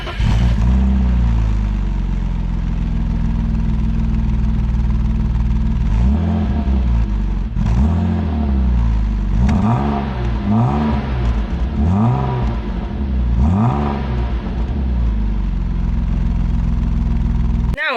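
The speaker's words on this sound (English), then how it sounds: "I wasn't expecting it to sound this good, although the advert did say she had a sports exhaust on" A BMW E36 with a sports exhaust idles with a deep exhaust burble, then revs repeatedly in a series of rising and falling pulses, loud and close.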